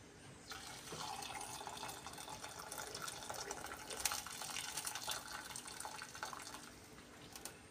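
Cooking water from stuffed peppers is poured into a pot of tomato sauce, a steady close splashing stream lasting several seconds in a kitchen.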